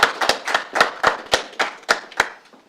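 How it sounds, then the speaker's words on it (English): Sparse clapping from a small conference audience during a social media session, about ten distinct hand claps spread unevenly and fading toward the end, no voices over it. "if we could just offer a round of applause"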